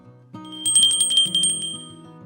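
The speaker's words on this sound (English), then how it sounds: "the door opened with a satisfying ring from a small bell attached to the top" A small bell fixed to the top of a general store door jingles as the door swings open, a bright rapid rattle of rings that fades out over a couple of seconds.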